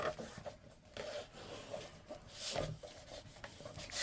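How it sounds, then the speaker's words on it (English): Paper being burnished for a Christmas craft album, a soft rubbing and scraping across the sheet in short repeated strokes, close and fairly quiet with no talking. "I'm going to go ahead and burnish that."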